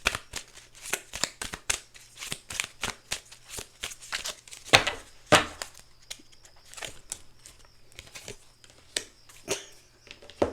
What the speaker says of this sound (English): Y'all saw me shuffle, right?